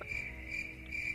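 Crickets chirp in steady rapid pulses, a high insect trill repeating about three times over a soft outdoor background hiss, used as an awkward-silence sound effect.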